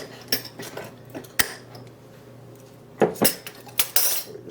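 A utensil clinks and scrapes against a bowl in scattered short bursts while dry ingredients with baking soda and salt are mixed, close and fairly quiet, with no voices.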